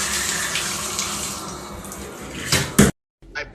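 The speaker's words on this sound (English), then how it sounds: "Can't wait to take a shower in my brand new apartment" Shower water runs in a brand new apartment, a steady close hiss of spray that swells briefly, then cuts off abruptly, followed by a few faint splashes.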